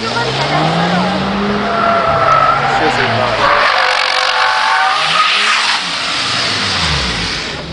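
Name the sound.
car tires squealing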